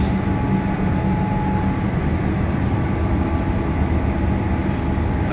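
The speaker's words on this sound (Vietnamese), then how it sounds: "Chuẩn bị vô xe lửa rồi, mới bắt đầu vô xe lửa này." Steady rumble and rattle from inside a moving electric suburban train in Melbourne, Australia, a continuous loud rolling drone with a faint hum, no talk.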